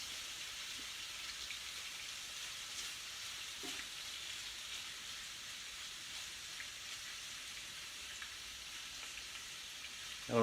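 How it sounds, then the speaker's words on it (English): Shrimp sizzle steadily in a frying pan for a spicy Fra Diavolo dish, a continuous crackling hiss with scattered pops that holds at an even level throughout, with no talking. "I don't know if you can hear the sizzle from there,"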